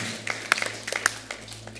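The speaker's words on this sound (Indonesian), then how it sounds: "Tepuk tangan buat Tuhan Allah kita." Sparse, scattered claps from a church congregation at an Indonesian worship service, a handful of sharp distinct hits over a low steady hum rather than a full ovation.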